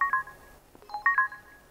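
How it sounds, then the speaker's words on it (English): An old mobile phone's text-message-sent tune plays alone: a short, clear electronic melody of a few beeping notes in quick succession. "That little tune played every time I sent a text message."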